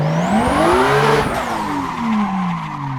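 A sim racing car in a video game brakes hard with the handbrake, locking the rear wheels into a sliding tire squeal over a steady engine drone, loud and close throughout.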